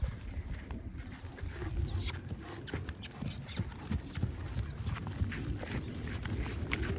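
Steady clip-clop of a stallion's hooves walking at an even pace, fairly close, with outdoor background noise throughout.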